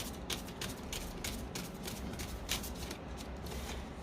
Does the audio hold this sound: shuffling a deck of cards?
yes